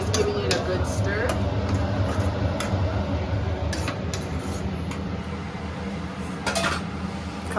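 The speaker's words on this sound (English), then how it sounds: "now she's just giving it a good stir" A tomato mixture is stirred in a pot, with sharp, intermittent clinks and taps of a utensil against metal cookware close by, under intermittent talking.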